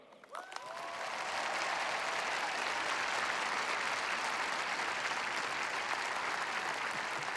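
Large audience applauding steadily at a Stanford graduation ceremony as Apple CEO Tim Cook is welcomed to the stage, a dense sustained wash of clapping that swells in quickly and holds at full strength.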